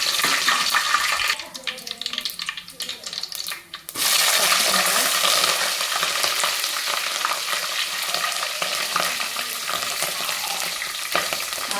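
Loud sizzling of tempering spices frying in ghee and oil for vegetable biryani, briefly quieter for a moment before the crackling hiss surges back and continues strongly.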